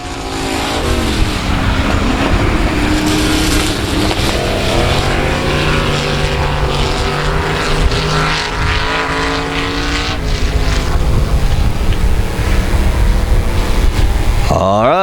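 Race cars roar around South Texas Speedway in a dense, continuous pack, engine notes rising and falling as they sweep past, loud and close throughout with a brief voice layered over the din.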